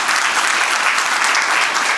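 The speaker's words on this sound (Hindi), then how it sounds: "तालियां बजा के प्रभु का धन्यवाद कीजिए।" A church congregation claps together in a dense, continuous roar of applause, loud and close, with no voices rising above it for the full two seconds.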